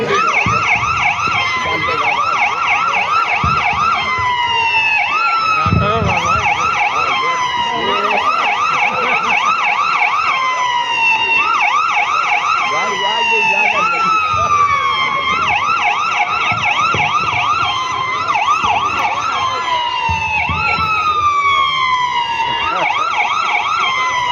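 A loud, continuous ambulance siren wails in rapid repeating sweeps for the whole stretch, close and steady, with some faint rumble underneath.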